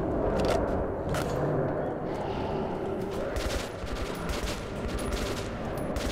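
Rapid bursts of gunfire from a weapon in the video game Metro 2033 Redux crackle loudly and continuously at close range, mixed with other in-game action noise.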